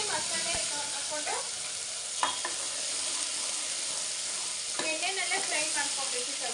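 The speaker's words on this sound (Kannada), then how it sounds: "ಎಣ್ಣೆನಲ್ಲೇ ಫ್ರೈ ಮಾಡ್ಕೊಬೇಕು ಸ್ವಲ್ಪ ಹೊತ್ತು" Masala and onion frying in oil in a pan, a steady close sizzle running throughout with a few stirring scrapes, no voices.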